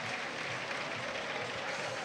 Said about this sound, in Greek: με το ζεστό χειροκρότημα από τους φίλους της ανόρθωσης